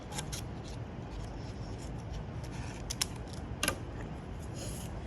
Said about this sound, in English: I'm going to cut away that fold, and I'm going to cut this guideline here too.